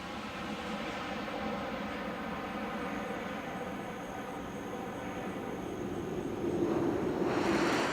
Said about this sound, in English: Main gear touchdown.